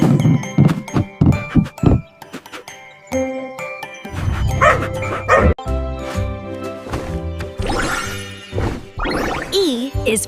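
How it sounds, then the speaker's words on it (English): Cartoon dog barking in a children's alphabet song, with a rapid run of short yips and bow-wows at the start, then bright jingling music and chimes carrying on under and after. "D is for dog."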